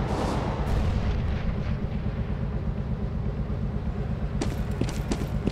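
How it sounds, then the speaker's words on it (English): Grenade blast in the Counter-Strike: Global Offensive video game, a loud, rumbling explosion roll filling the whole stretch, followed near the end by a few sharp crackling hits. "Throwing grenade!"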